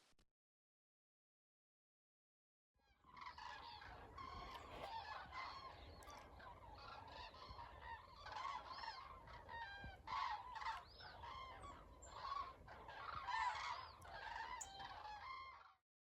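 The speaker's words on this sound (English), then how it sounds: "if I stop talking, I can hear cranes" Distant migrating cranes calling over a farmhouse garden in autumn, a continuous overlapping chorus of honking, bugling calls that carries on steadily for over ten seconds with no talking.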